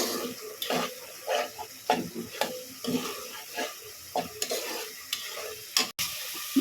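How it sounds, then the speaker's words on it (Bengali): Garlic paste, ginger paste, cumin, coriander, chili, turmeric and salt stir-fried for mutton, with steady scraping and clattering spoon strokes over a constant sizzle, close and fairly loud, plus one sharp knock near the end. "রসুন পেস্ট, আদা পেস্ট, জিরা গুঁড়া, ধনে গুঁড়া, মরিচ, হলুদ, লবণ সবগুলো দিয়ে এখন ভালো করে কষিয়ে নেব।"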